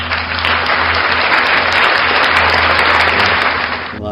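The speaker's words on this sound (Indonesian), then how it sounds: "mari kita berikan aplaus ya kepada Pak Kolik hari ini" Sustained applause from a church audience honouring Mr. Kholik, dense and steady clapping filling the room for about four seconds before cutting off abruptly at the end.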